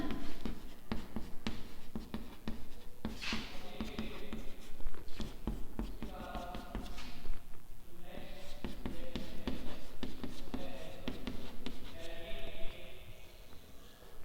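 Pen or chalk scratching steadily as an equation is written by hand, quick strokes and taps close up, with someone speaking over the writing.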